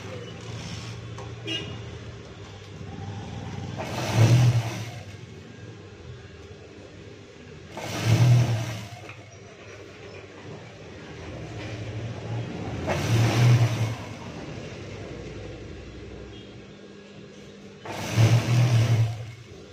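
A sewing machine stitches a half-inch seam on elastic pants in short whirring bursts about every four seconds, each swelling and fading, with quieter gaps and faint talking between them.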